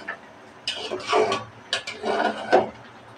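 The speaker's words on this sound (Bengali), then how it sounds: "ঢাকনা উঠিয়ে কুমড়োটা একটু আলতোভাবে নাড়াচাড়া করে নেব।" Pumpkin being gently stirred in a cooking pot after the lid comes off: several light knocks and scrapes of a spoon against the pot in short clustered bursts, close and fairly quiet over faint background hiss.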